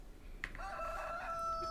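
A rooster crows in a farming video game: one long, drawn-out cock-a-doodle-doo rises after a short opening note and holds steady to the end, close and fairly loud, with no talk over it.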